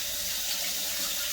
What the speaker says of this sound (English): Next, you want to kind of rinse everything off, make sure it's super clean